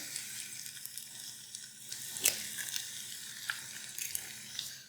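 Eggs frying in a Carote nonstick pan give a steady, soft sizzle with scattered small pops and one sharper crackle midway, close by with no talking.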